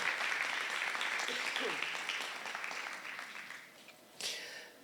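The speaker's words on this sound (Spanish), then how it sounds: "¿Le puedes dar otro aplauso a Jesús de celebración?" A church congregation applauds in celebration during a sermon, the dense clapping gradually fading over a few seconds before a brief final swell.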